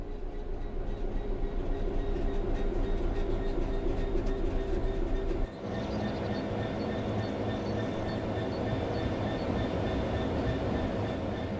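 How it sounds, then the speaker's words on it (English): A train coasts on level track in the Train Sim World 3 game, giving a steady rolling rumble with a rhythmic clickety-clack of wheels. A brief dip comes partway through, then the sound carries on unchanged, with no talking. "The train will then coast on level ground, and the train will only slow down very gradually."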